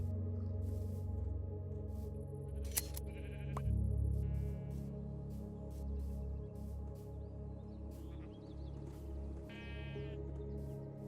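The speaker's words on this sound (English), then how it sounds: "Yep, there they are. There's the sheep." Sheep in the Minecraft video game bleat several times in short bursts over a steady bed of game ambience and background music, with one louder, closer bleat standing out midway.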